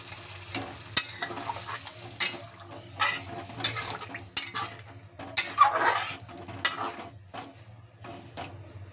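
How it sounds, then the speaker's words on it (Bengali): Water splashes into a sizzling pan of Bengali fig and potato curry, with scattered clinks and stirring scrapes over a steady close frying hiss. "দিয়ে দেবো জল।"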